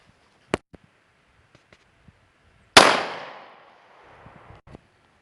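A single sharp 9mm pistol shot strikes a cinder block, a loud close crack with a long decaying rumble and debris wash, preceded by a smaller sharp snap and followed by faint clicks.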